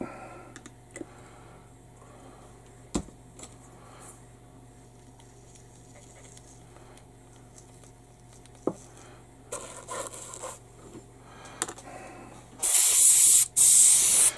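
An airbrush being cleaned out between paint colours, with scattered small clicks and taps, then loud bursts of hissing spray near the end.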